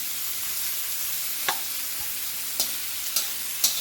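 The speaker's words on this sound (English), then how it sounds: "let this cook a little bit so the onions will be translucent" Onions and mushrooms sauté in a hot pan with a steady broadband sizzle, punctuated by a few sharp clicks of stirring, faint and without talk.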